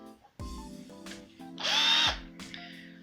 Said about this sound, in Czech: a teď si vezmeme ještě vrtačku